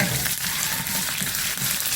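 Spices temper in hot ghee, sizzling and crackling in a steady close frying hiss with occasional stirring sounds.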